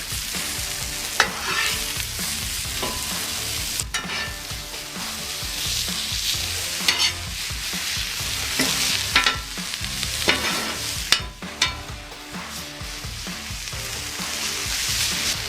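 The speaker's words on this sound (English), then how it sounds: "Now let's give us a big stir." Mushrooms and onions sizzling in oil in a pan on medium-low heat for deer burgers, a steady frying hiss broken by repeated scraping stirs and sharp utensil clacks against the pan, with no speech.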